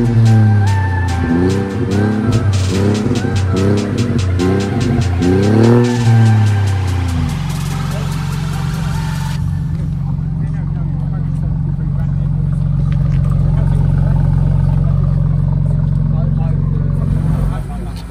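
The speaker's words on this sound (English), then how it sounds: "We're going to watch some cars shoot off now" BMWs at a London owners club meet rev hard in repeated rising bursts, then one pulls away into a long, loud steady drone as the engine note holds and swells, close by, with no talk heard.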